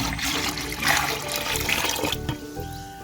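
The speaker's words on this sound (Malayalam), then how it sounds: "ഇതിലേക്ക് നമുക്ക് കുറച്ച് വെള്ളം ഒഴിച്ചു കൊടുക്കാമേ ഒഴിച്ചു കൊടുക്കുന്ന പച്ചവെള്ളം ക്ലോറിൻ ചേരാത്ത വെള്ളം വേണം" Chlorine-free tap water poured into a container for watering rose plants, a steady close splashing and filling stream that eases off near the end, with no talking.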